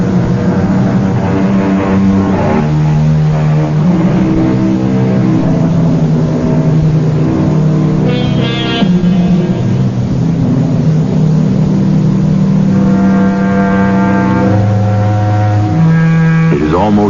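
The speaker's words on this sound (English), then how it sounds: "Off in the distance, we hear the keening of a finely tuned sports car." A finely tuned sports car's engine keens in a radio-drama sound effect on a deserted highway near midnight, a steady, loud, sustained whine with shifting pitch and no talk over it.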